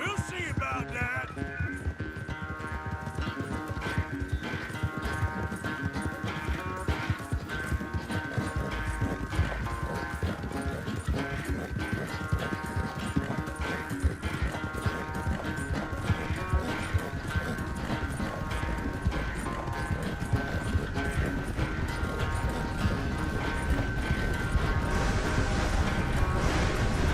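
Horse hooves galloping in Red Dead Redemption 2, a fast, steady, close clip-clop rhythm that lasts the whole stretch beneath a soft musical score, with occasional tack rattle.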